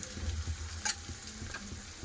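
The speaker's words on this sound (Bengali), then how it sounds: "ফুলকপি গাজর বেশ ভালোভাবে ভাজা ভাজা হয়ে গেছে" Cauliflower and carrot pieces fry in a pan with a soft, steady sizzle and a few scraping stirs, quiet and close with no talking.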